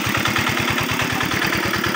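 A tractor engine works in a field at a remote village in the afternoon, chugging in a steady, fast rhythmic pulse with a constant clattering drone.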